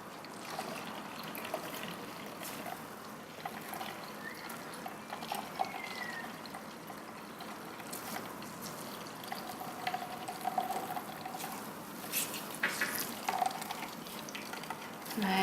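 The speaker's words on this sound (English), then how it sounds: "Once you're finished squeezing all the almond milk through the nut milk bag" Almond milk trickles and drips steadily through a nut milk bag in a quiet room, a soft wet squeezing sound with small splashes, close up and fairly faint.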